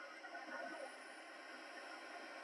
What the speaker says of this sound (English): Oh, I hear static.